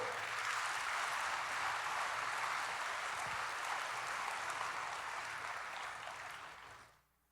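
Steady applause from a church congregation during a service, filling the room evenly for several seconds before fading out abruptly at the end.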